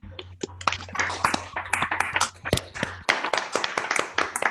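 A scattered group claps over open microphones at an online event, uneven slaps and taps from several people at different levels, with a faint steady hum beneath for the first part.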